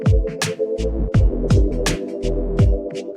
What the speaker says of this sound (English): And some reverb.